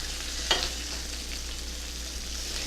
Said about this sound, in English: I start with my snow peas, and they do not take long.